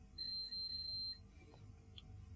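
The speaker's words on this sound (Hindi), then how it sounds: "कॉन्टिन्यूटी पॉइंट पे जब दोनों टर्मिनल कनेक्ट होते हैं तो वो बीप की आवाज़ आती है" A continuity beep from a multimeter as both probe terminals touch on a fire alarm kit circuit: one steady, clear high tone lasting about a second, then a faint short blip, with a low background hum.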